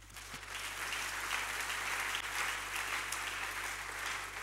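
A congregation applauds during a French-language Christian worship service, a steady wash of clapping that fills the clip from start to finish at an even, sustained level with no speech over it.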